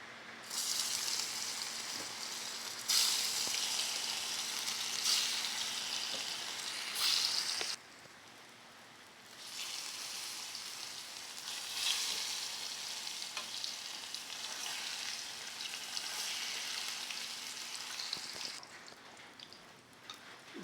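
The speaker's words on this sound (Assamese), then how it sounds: "হৈ গ'ল ভাত কেৰেলা বৰা ভাজি।" Bitter gourd fritters coated in masala and red chili powder fry in hot oil, a steady loud sizzle that dips briefly near the middle, then swells back and carries on alone.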